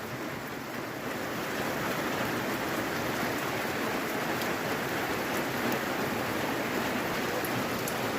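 Steady, even rain pours down for the whole stretch, a dense constant hiss with no breaks and no talking.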